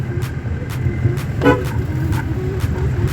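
Several short car horn toots sound in a loose series over steady road traffic noise on a hill road to Kalimpong, one louder honk standing out in the middle.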